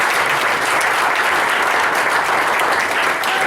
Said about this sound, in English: One more round of applause for all these students and their awesome accomplishments